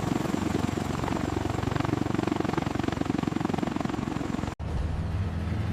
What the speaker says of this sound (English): Its unique tilt-rotor design combines the speed of an airplane with the vertical takeoff and landing of a helicopter